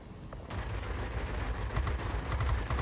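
Machine guns on a VB 10 warplane in World of Warplanes hammer out dense, continuous bursts, starting after a short lull and then rattling steadily and loudly over the low drone of the aircraft.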